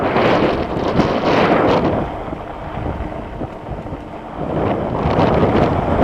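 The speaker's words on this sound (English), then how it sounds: "See the wind, guys? It finally picked up." Wind rushes steadily across the microphone outdoors on a rail trail lined with old train wrecks and bridges, a broad roaring gust that dips briefly midway and swells again, with no voices.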